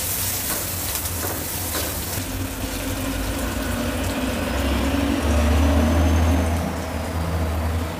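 Garlic cloves sautéing in hot oil with curry leaves and asafoetida for an okra stir-fry, a steady close sizzle and fry that swells louder toward the end, with no talk over it.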